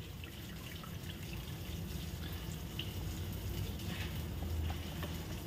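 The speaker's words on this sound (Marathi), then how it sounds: "हा पाण्यात आपण टाकलेला खीस आहे तो असा पिळून घ्यायचा आहे" Water drips and trickles steadily from grated sweet potato as it is squeezed by hand after soaking, close and continuous with no voices.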